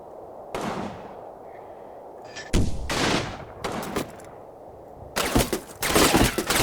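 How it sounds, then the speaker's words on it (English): Mortar and gunfire in the WWII tactics game Combat Mission Final Blitzkrieg: several sharp blasts with cracking bursts and rolling rumble, loud and close, alone with no talk. "Putting the mortar on there."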